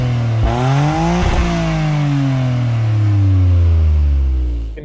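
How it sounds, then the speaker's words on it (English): A Toyota GR Corolla AutoMatic's engine bellows loudly through its triple exhaust, rising through quick revs and shifts with falling and climbing tones, then a long deep steady drone close by. "One thing the AutoMatic hasn't diluted is engine noise. You can hear it bellowing out of the triple exhaust in the back."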